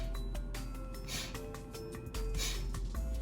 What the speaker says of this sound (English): just simply force the breath out of your nostrils